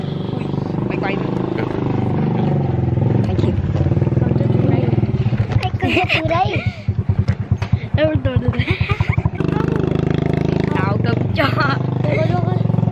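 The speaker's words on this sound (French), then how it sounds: "Ah, je crois que la moto va gêner." A motorcycle engine revs and passes close by, its rattling pulses loudest midway, over steady road noise and background chatter.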